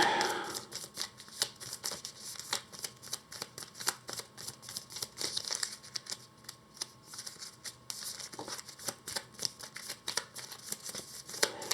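A deck of cards for a solo board game gets shuffled repeatedly close to the microphone, giving quick papery riffles and bursts of card snaps with short pauses between them.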